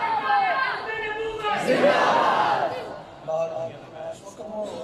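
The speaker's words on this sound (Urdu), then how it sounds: "خلافت راشدہ کے حوالے سے بڑے نعرے لگ رہے ہیں" A crowd at a religious gathering shouts slogans in unison, loud rhythmic bursts of many voices with a lead voice calling between the chants.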